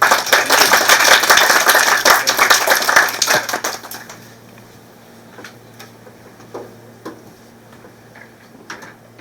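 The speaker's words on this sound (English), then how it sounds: "Please give your big applause to Professor Markus Ladstätter for his speech." Audience applause at an academic lecture, dense and loud for about four seconds, then fading to a few scattered claps over quiet room tone.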